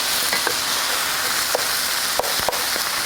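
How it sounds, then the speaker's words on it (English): Vegetables fry in olive oil in a hot pan, giving a loud, steady sizzle with a few crackling pops and light stirring clicks throughout. "You can hear the sizzle, and now I will just toss them around."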